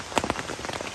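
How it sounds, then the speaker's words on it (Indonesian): Rain falls on surfaces at a mountain campsite on Mount Slamet, a close, steady patter of individual drops striking in quick irregular succession, with no voices. "hujan lagi."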